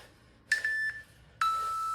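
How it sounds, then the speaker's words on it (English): A workout interval timer gives two electronic beeps: a short tone, a brief gap, then a longer sustained one, clear and fairly loud against a quiet room. "There we go, that's the timers."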